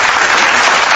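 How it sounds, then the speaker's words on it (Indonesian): A crowd applauds at a religious discussion event, dense steady clapping that fills the whole moment loudly and evenly with no pauses. "tepuk tangan"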